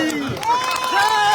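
A large crowd claps and cheers loudly at a protest at Jantar Mantar, a dense wash of applause with shouts rising through it.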